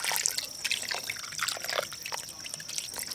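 Water is poured into a camp oven over rissoles at a bush campsite, a continuous close splashing trickle with small drips throughout.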